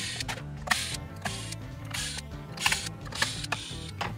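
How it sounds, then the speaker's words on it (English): Protective plastic film peels off the pickguard of a Squier Sonic Esquire H guitar in short, close crackling rasps at irregular intervals against a quiet room. "I'm gonna take the plastic off this pick guard"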